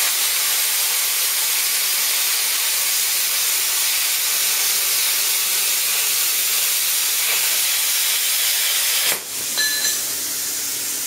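Cut 50 plasma cutter fitted with a 100 amp torch slicing through steel plate, a steady loud roaring hiss that runs for about nine seconds before cutting off abruptly, followed by a faint quieter hiss.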